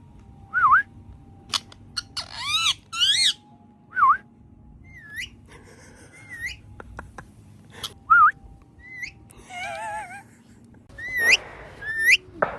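A bird aboard the MSC World America cruise ship gives repeated rising whistles and short chirps, close and clear, with some sliding whistle phrases in between, heard alone against a quiet background.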